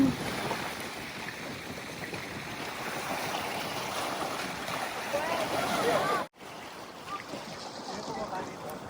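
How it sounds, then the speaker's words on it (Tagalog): Strong wind roars steadily across the microphone with a broad rushing blast, briefly cutting out near the end before resuming. "Ang lakas ng hangin!"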